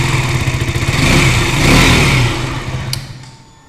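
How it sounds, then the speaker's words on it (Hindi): A KTM RC 200 motorcycle with an underbelly exhaust runs close by, its single-cylinder engine pulsing rhythmically at idle, swelling briefly with a rev, then settling and fading near the end. "इसमें अंडर बेली एग्जॉस्ट सिस्टम मिलता है जो कि मैं एक बार फिर से स्टार्ट करके"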